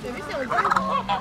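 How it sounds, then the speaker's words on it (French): Close, loud quacking and honking from a duck, a short burst of rising and falling calls with faint voices nearby. "Il y a un canard."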